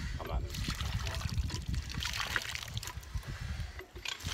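Muddy water gushing and splashing from a pump on a freshly driven well point in Vermont, a close, continuous sloshing pour with people talking over it.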